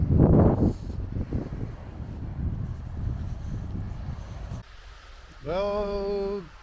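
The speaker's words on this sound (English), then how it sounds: "It's a bit windy at the moment." Strong wind buffeting a microphone outdoors near a ferry on the Scottish coast, loud low rumbling gusts that ease off before a tonal rising-and-falling sound near the end, with no speech.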